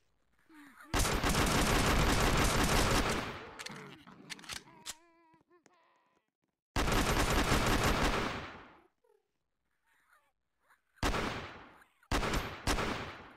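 Sustained bursts of automatic gunfire from the video game Headcrab Infection, long loud rattling volleys broken by pauses and a few shorter bursts, with brief game sounds in the gaps.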